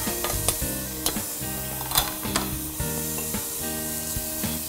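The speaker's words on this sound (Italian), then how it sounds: "scaldiamo in una casseruola una noce di burro, aggiungiamo un filo d'olio e facciamo intenerire la cipolla" Onion softening in butter and a drizzle of oil in a saucepan for a zucchini risotto, with a steady sizzle broken by repeated stirring scrapes and knocks, close and alone.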